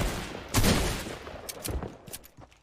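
Sniper rifle shots in a video game trick-shot attempt, one loud close blast followed by a few fainter distant cracks over a low game rumble.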